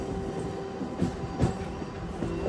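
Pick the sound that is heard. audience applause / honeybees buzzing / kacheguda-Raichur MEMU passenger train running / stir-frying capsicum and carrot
kacheguda-Raichur MEMU passenger train running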